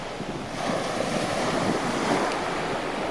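Waves break and wash over a shingle beach on a grey, fairly calm day, a steady broadband rush with heavy wind buffeting the microphone, continuous and fairly close, with no voices.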